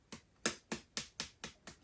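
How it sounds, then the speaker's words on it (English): Seven crisp finger snaps in a steady, evenly spaced rhythm, close and fairly quiet, with no voices. "when I snap my fingers"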